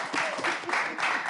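Brief burst of audience applause, moderately loud, with a few louder clap surges across the short stretch.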